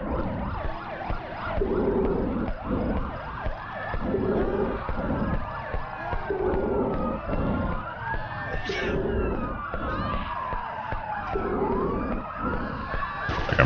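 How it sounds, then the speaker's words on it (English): Several sirens in the video game Worst Case Z wail and sweep up and down at once, loud and continuous, with a faint voice murmuring underneath. "Sick of fucking sirens"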